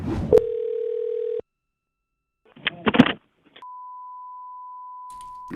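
Telephone tones while calling a coin shop: a steady low dial tone holds for over a second, followed by brief handling clatter, then a clean, continuous higher-pitched tone that runs on evenly to the end.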